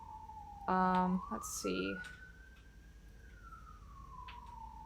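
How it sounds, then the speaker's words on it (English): A siren wails steadily through the whole stretch in Vampire: The Masquerade - Swansong, its tone bending slowly up and then back down, with a short burst of other game sounds and a brief spoken voice near the start. "siren will stop going off"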